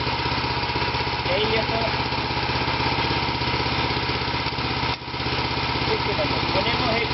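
A BCS 738 walking tractor with an 8 HP engine and a sickle-bar mower idles close by in a steady, loud, chugging drone, while someone speaks briefly over it.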